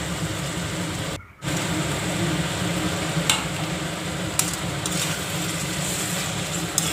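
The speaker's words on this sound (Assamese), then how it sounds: "এইদৰে গোটেই মিটখিনি কিছু সময় লৰাই ভাজক।" Beans, carrots and peas stir-fried in a pan for veg pulao, a constant dense sizzle with a brief dropout and a few faint scraping clinks, close and steady with no talk.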